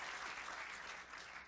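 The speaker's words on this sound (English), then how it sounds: "I should ask for another round of applause for all the volunteers and people working really, really hard tonight" An audience at a keynote talk applauds the volunteers, a steady, even wash of clapping that holds at a moderate level before ending on a final sharp clap.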